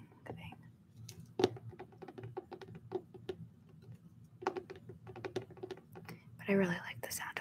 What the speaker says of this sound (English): I like the sound that this makes, like the little binding thing